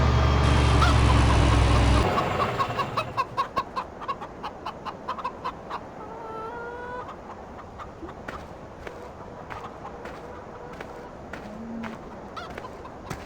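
Chickens clucking in a chicken pen in the farming game Farming Simulator 2013, with a string of short, regular calls over steady background ambience after a louder opening burst.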